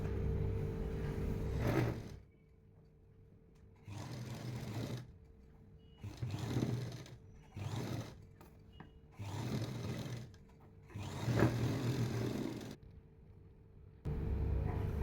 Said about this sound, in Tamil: இப்போ இது மேலேயே இன்னொரு தையல் நம்ம போட்டுடலாம்.